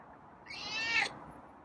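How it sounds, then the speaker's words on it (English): A single drawn-out meow from a feral cat being petted, fairly close and clear, rising then cutting off abruptly against a quiet background. "It's some nice meows though."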